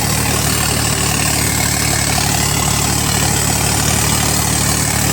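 A Swaraj 855 4x4 turbo tractor engine runs loud and close at high revs in low-range third gear, a constant dense diesel roar with a steady low throb and no break.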